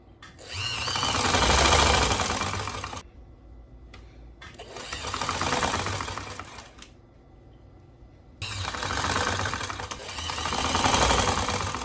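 A sewing machine stitches the sleeves of an elegant jacket in three sustained bursts of fast, whirring needle chatter. Each burst is separated by brief quiet pauses, and the machine sounds close and loud with no voices.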